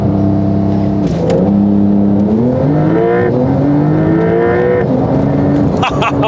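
A Porsche 911 Carrera 4 GTS accelerates hard on a wet road, its engine note climbing through several gear changes, loud and close, with brief shifts punctuating the rising revs.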